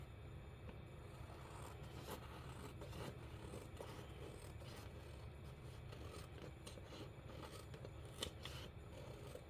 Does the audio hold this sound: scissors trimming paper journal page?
yes